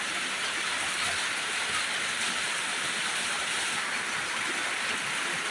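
Steady, dense rain hissing without a break, a broad wash of water noise with a faint low rumble underneath and no voices.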